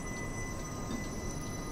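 A train on the Arosa Line in Switzerland in Train Simulator 2017 gives a steady rumble with faint high squealing tones, continuous and fairly close.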